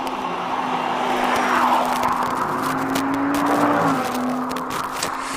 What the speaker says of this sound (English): Oh, that Audi R8.